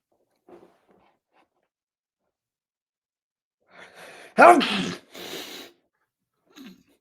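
A single sharp sneeze bursts out after a quick intake of breath, followed by a short exhale, otherwise near silence.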